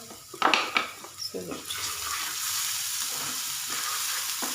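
Spices, including turmeric, ground green chili and chili powder with salt, fry in a pan, starting with a few clattering stirs and scrapes, then settling into a loud, steady sizzle close by.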